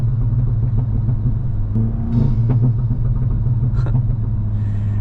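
Car exhaust on an aggressive crackle setting, heard from inside during a drive: a steady loud engine rumble with a few short pops and crackles breaking through around the middle and near the end.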